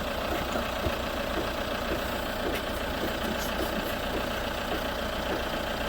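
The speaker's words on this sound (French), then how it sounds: "on nous demande donc de démarrer le véhicule" A car engine idles steadily right after being started, a constant close mechanical rumble with no revving and no voices.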